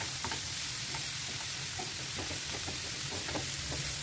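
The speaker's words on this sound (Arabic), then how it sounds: "نقلب برضو لغاية ما يتبالوا شوية" Diced onion, zucchini and bell peppers sautéed in a pan, a steady soft sizzle with repeated scraping strokes of a spoon stirring them, close and continuous with no talking.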